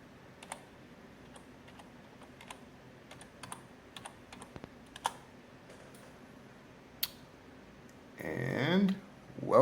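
A password is tapped out on a computer keyboard during Ubuntu Server setup on a Raspberry Pi 4: sparse, quiet, irregular key clicks in a calm room, followed by a louder rustling burst at the end.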